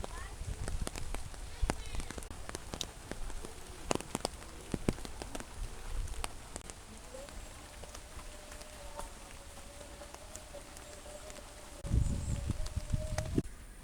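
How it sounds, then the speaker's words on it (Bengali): Heavy rain falling around a rural home with an outdoor cooking area, scattered drips and patters over a steady wash, close and fairly loud with sharp drop hits. People talk throughout. "আজকে অনেক বৃষ্টি হয়েছে বৃষ্টির জন্য আর বাইরে বেরিয়ে রান্না করতে পারি না"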